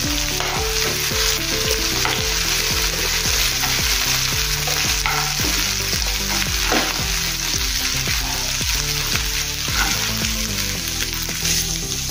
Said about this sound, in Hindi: अच्छे से मिक्स कर लेंगे और थोड़ा सा भूनेंगे इसको